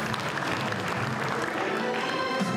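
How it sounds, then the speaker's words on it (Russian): At a ceremony in a drama theatre, the audience gives veterans a dense, steady ovation of clapping that fills the room throughout. "Зал искупал овациями наших защитников"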